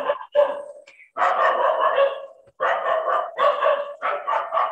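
Dogs bark loudly and close by in bursts of excited, overlapping barks and yips, with short pauses between volleys and no speech over them.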